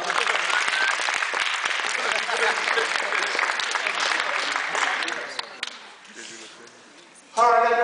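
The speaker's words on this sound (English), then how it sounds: "let's give it a round of applause" A high school audience gives a loud round of applause that gradually dies down, followed by a voice speaking briefly at the end.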